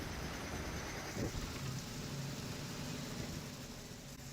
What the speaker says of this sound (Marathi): सोलापूरमध्ये देखील मुसळधार पाऊस कोसळलाय